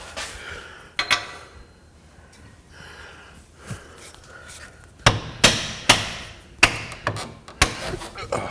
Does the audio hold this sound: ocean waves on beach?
no